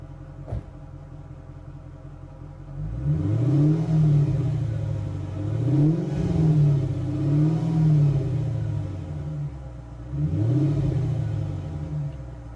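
A 2005 Mercedes SL500 V8 with a Flowmaster muffler idles, then revs up in several rising and falling blips, a deep exhaust rumble heard close and with no talking.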